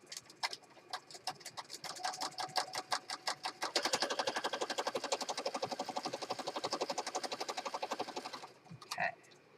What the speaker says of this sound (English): Alright, I'll just do a quick zigzag stitch across here.